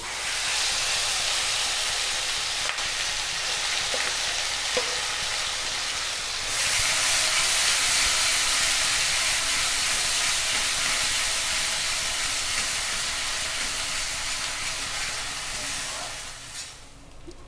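Spice paste for a dhaba-style egg curry hitting hot oil in a pan, a loud, steady broadband sizzle that holds for many seconds and swells as more paste goes in.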